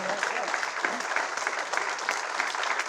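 Crowd applause for a mayor after a speech at a veterans golf classic, dense continuous clapping at moderate distance with faint voices mixed in.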